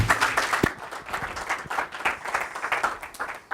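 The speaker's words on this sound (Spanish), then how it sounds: "con un caluroso aplauso." An audience at the Expodeco 2013 design expo claps warmly to welcome architect Juan Carlos Doblado to his talk. The applause is a dense, steady patter that carries on throughout without a break.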